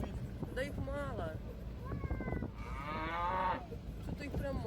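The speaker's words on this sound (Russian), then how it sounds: "Вот они коровы, смотрите." Cows on a farm on Sakhalin moo several times in quick succession, with long drawn-out calls close by, while people talk over them and wind buffets the microphone.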